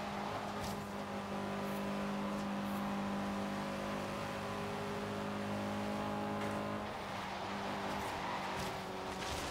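A Fiat Abarth's engine in the Forza Horizon 3 racing game holds a steady, buzzing high-rev drone that shifts pitch midway as the car accelerates, continuous and dense with no speech.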